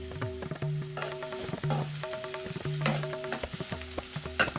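Onions, garlic and fresh ginger sizzle in hot oil while being stirred, a steady close frying hiss with repeated spatula scrapes on the pan.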